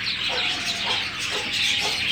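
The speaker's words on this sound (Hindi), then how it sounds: "ये काली सिया देसी मुर्गी है" A black desi hen clucks in short, soft bursts, fairly close, with bird and chicken-like calls repeating over a steady background hiss.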